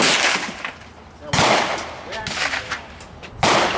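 Mosin-Nagant M91/30 rifles fire at an outdoor range, two sharp loud reports about two seconds apart with a ringing tail, while people talk between shots.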